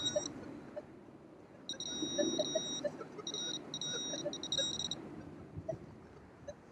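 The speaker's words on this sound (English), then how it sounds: "it's overloading my detector. So something's here." A handheld metal detector in an old city park sounds a rapid series of high, steady electronic beeps in short bursts over a target, fairly close and loud above soft outdoor rustling.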